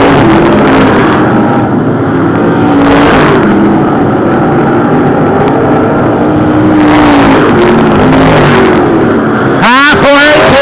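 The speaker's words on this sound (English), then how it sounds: "The V18 of Kenny Merritt thought he was going to go to the infield, not quite, gets back on the gas, takes it back on the track" Modified race cars at Cotton Bowl Speedway, engines roaring loud and steady as one gets back on the gas after nearly going to the infield, with a rising rev near the end and an announcer talking over it.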